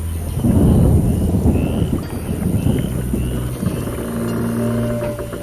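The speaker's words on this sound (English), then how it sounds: "Storm." Thunder rolls through a stormy setting in The Witcher PC game, a loud, deep rumble that swells early and then keeps grumbling steadily with faint water and ambient game sounds beneath it.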